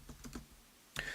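Quiet keystrokes on a computer keyboard while setting up a Cinema 4D Python editor: a few soft, closely spaced taps followed by a sharper, brighter key press near the end, with no talk.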